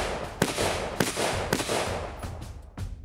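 Gunshots strike quarter-inch tempered commercial glass, with about four sharp, loud cracks spaced roughly half a second apart and then one more after a short pause, each followed by a rough, noisy tail.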